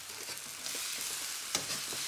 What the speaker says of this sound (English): Whenever you are stir frying noodles, make sure that you really get your ladle to the bottom of that wok